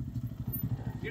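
A KPR 200cc motorcycle engine runs on a test ride with a steady low, pulsing putter, close by, a voice faintly audible over it.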